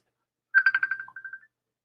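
A mobile phone ringtone for an incoming call plays alone as a short, bright electronic melody of quick repeated tones lasting under a second, fairly close and clear.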